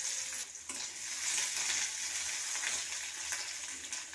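Green chillies, garlic cloves and diced onion frying in hot mustard oil, a steady close hissing sizzle with light stirring, continuous and fairly loud with no voices.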